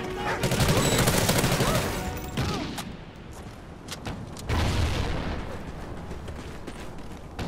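Gunfire from every direction in Call of Duty: Ghosts: dense bursts of automatic rifle fire and sharp shots, close and loud, with booming impacts. The shooting eases briefly, then a second heavy volley follows.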